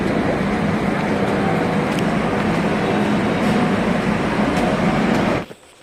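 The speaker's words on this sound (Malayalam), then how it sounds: "അമ്മാളും ഫസ്റ്റ് ടൈമാണ് മെട്രോയിൽ കയറുന്നത്" Constant loud rumble and hum of a Kochi Metro train in motion, broad and steady, cutting off abruptly near the end.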